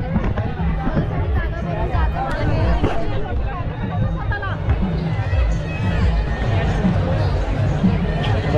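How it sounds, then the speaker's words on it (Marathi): A large, dense crowd at an Adivasi Day rally in Palghar, a steady roar of many voices, shouts and movement, loud and continuous throughout without any break. "हे बघ, फुल गर्दी आहे"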